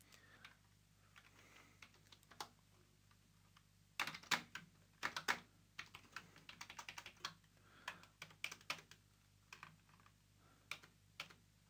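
Quiet computer keyboard typing while writing code: scattered single keystrokes, then a denser run of quick clicks in irregular bursts, close but soft over a low steady hum.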